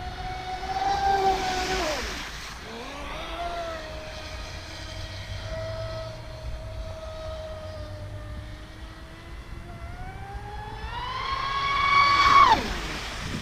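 A Traxxas Spartan RC boat runs at full throttle on two 3S 5000 45C graphene packs, its electric motor whining in rising and falling pitch sweeps as it passes close, swelling loud near the start and again near the end.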